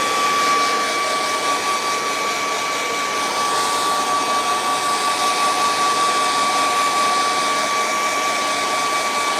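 A hair dryer blows steadily over an acrylic painting of a kangaroo in a sunset, a loud, even whooshing drone with a faint whine that holds for the full nine seconds with no voices over it.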